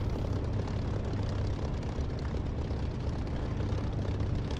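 A propeller aircraft engine idles steadily in the DCS flight simulator before takeoff, a loud, continuous low drone with a rough rumbling texture that holds level throughout, with no talking.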